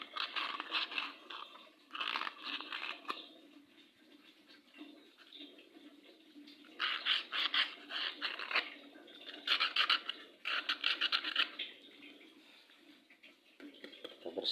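Aquarium pump parts being sanded by hand with sandpaper, giving bursts of rough scratchy rasping in uneven strokes separated by quieter pauses, close and fairly soft.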